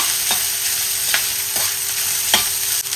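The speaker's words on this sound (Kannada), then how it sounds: "ಸೊ ಇವಾಗ ಅನ್ನವನ್ನು ಹಾಕಿ ಚೆನ್ನಾಗಿ ಇದನ್ನು ಫ್ರೈ ಮಾಡ್ತೀನಿ" Rice with finely chopped green chillies stir-fried in a pan: a steady broadband sizzle with a few sharp scrapes and tosses of the spatula spaced through it, close and fairly loud, no voices.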